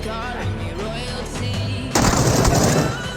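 Loud automatic gunfire bursts in the battle-royale shooter PUBG, rapid rattling shots erupting midway and continuing densely to the end over game background sounds.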